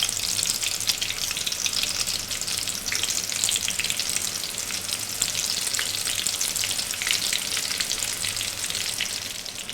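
Onions frying in oil in a pan on the stove, a steady, dense sizzle that stays even throughout with no talking.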